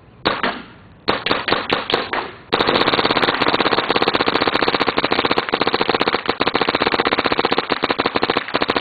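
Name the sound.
paintball marker firing on semi-auto, full hopper of paint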